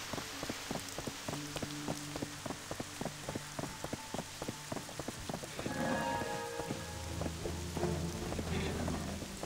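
Heavy rain in the video game Black Desert, a dense, steady patter with sharp drop impacts throughout, growing louder and fuller toward the end.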